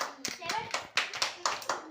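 Children clap in quick, uneven bursts of sharp, close hand claps, with young voices chattering alongside.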